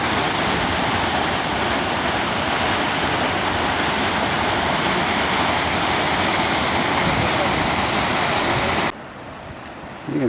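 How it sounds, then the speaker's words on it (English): A 75-foot waterfall carrying a heavy flow of water roars loudly and continuously, with wind buffeting the microphone, before cutting to a much quieter hush near the end. "Here we are standing right above this 75-foot waterfall."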